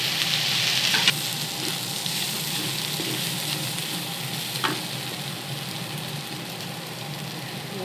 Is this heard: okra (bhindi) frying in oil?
yes